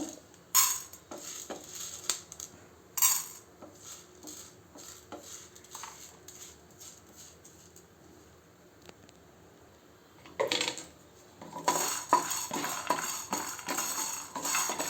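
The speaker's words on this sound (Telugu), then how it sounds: "ఇవన్నీ లో ఫ్లేమ్లోనే మంచిగా రోస్ట్ చేసుకోవాలి" Chana dal roasts in a pan on low flame for an ivy gourd chutney, with intermittent metallic scrapes and clinks of a spoon stirring, sparse at first and then busier and louder toward the end.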